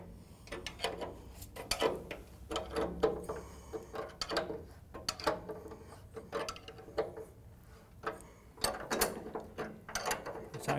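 A ratchet tightens the motor adjusting bolts on a Hartzell Air Movement belt-driven fan, giving repeated quiet bursts of clicking strokes close by, with no talking.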